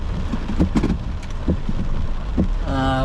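Heavy rain pours steadily during a South East Queensland storm near Mango Hill, a dense hiss with low rumbles and thumps underneath, likely from inside a moving vehicle.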